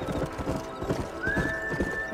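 Horse hooves clip-clop in Red Dead Redemption, a steady rhythmic trot heard up close throughout, with a whinny and other in-game sounds mixed in.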